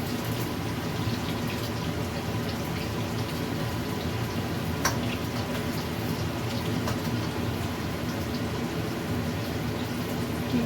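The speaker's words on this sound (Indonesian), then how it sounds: "Di luar lagi hujan sahabatku, Hongkong lagi hujan." Steady rain falling outside in Hong Kong, a continuous soft patter and hiss of drops on surfaces, even and moderately quiet with a couple of sharper drips.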